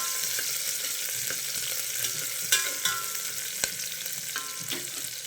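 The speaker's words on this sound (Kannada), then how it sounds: "ಈರುಳ್ಳಿ ಮತ್ತು ಹಸಿಮೆಣ್ಸಿನ್ಕಾಯಿ ಹಾಕಿ ಫ್ರೈ ಮಾಡೋಣ" Onion and green chillies frying in oil in a pan for mutton sambar, a steady close sizzle with a few scattered pops and light stirring clicks throughout, no voices.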